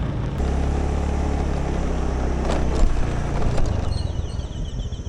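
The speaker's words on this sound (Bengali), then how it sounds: "তো টাইম ওয়েস্ট না করে ওখানে যাই, আর কিছু বাইক রাইডিংয়ের শট আপনাদেরকে দেখাই।" A motorcycle riding along a road in Langkawi, Malaysia, its engine a steady mid-pitched drone that rises slightly toward the end, with wind and road noise and no speech.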